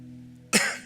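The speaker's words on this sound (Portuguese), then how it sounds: "desculpa, o velhinho tossindo de novo." An older man gives a single sharp cough during a church sermon, a sudden burst that follows a quiet stretch of low electrical hum and then trails off into the room.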